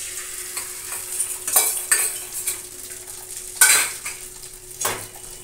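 An egg goes onto bread already toasted on a tawa, with chopped onion and chilli, and it crackles and sizzles under repeated clinks and scrapes of a metal utensil against the pan, with several sharper bursts of frying.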